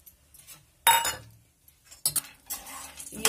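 Peanuts and makhana are tipped into a pan of hot desi ghee, giving close clattering bursts of metal and a faint sizzle. Quiet gaps separate the bursts, and there is no talk.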